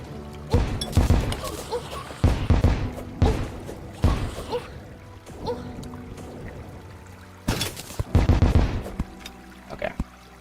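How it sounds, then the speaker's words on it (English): Turret fire in the Terraria video game: sharp, loud shot bursts strike in irregular clusters, some close together and some spaced, over a low steady hum, with no voices. "I got shot by a turret"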